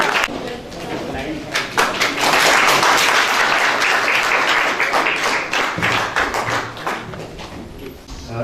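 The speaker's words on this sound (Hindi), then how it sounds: "जोरदार तालियां बच्चे के लिए" Enthusiastic applause rises from a gathered audience for a child at a meeting between Madhya Pradesh's police chief and people with disabilities. Dense, loud clapping continues without a break, with individual sharp claps standing out.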